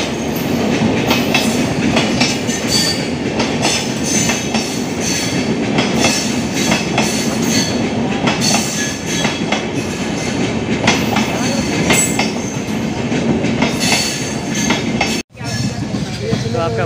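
A Lichi Express train passes at a rail crossing in Siwan district, a loud continuous roar of wheels and rattling cars with rhythmic clickety-clack, close by and sustained throughout, with faint voices underneath.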